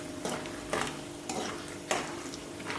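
Peanuts and asafoetida frying in a pan on a high flame while being stirred, a soft continuous sizzle broken by four distinct scraping strokes of the spoon, with no talk.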